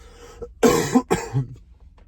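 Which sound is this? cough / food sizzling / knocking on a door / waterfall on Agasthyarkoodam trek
cough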